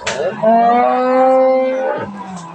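A cow at a rural cattle market in Dinajpur gives a single loud, drawn-out moo lasting about two seconds, close by.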